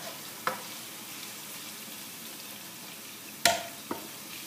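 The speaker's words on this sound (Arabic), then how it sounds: "البصل يبدا يذبل هكاكا، وانا نزيد الدجاج نتاعي" Chicken pieces fry with wilting onions in a pan, a soft, quiet sizzle broken by a few sharp clanks and scrapes of stirring, without talk.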